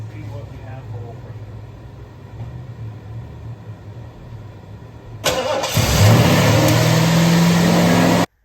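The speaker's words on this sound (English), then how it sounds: "we'll crank it up and see what happens" A rebuilt 460 V8 in a 1975 Lincoln Continental is cranked and catches, switching abruptly from a low, quiet background to a loud, roaring engine that runs steadily close by for the last few seconds.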